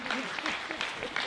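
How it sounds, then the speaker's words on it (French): Audience applause greets a filmmaker at a film screening in Stains, a brief burst of clapping mixed with a voice talking over it. "Et on peut l'applaudir, donc c'est une première."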